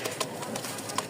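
Fancy pigeons in a loft, with short soft coos and scattered wing or foot sounds, faint and close together in a quick burst.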